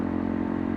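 Small, cheap motorcycle ridden along a rough trail on Russel Ridge, its engine a steady close drone with rattling clatter throughout, no voices.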